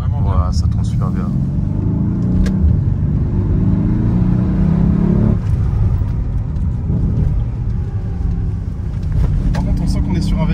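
Mercedes GLC Brabus 600 SUV with a V8 biturbo engine, driving at speed: a steady, loud low engine rumble and drone throughout, with people talking over it.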